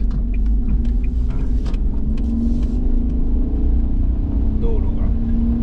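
A Suzuki Every van in four-wheel-drive mode drives over about ten centimetres of snow, its engine giving a steady low rumble and drone throughout, with faint crunching and a voice briefly under the engine.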